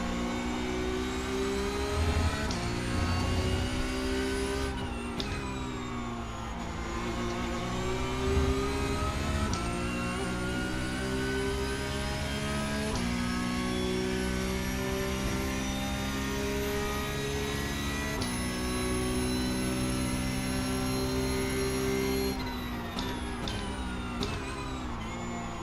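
Porsche Cup race car engine at Monza in iRacing, a steady loud mid-pitched drone with rising and falling revs and brief gear-shift dips throughout, heard alone with no talking.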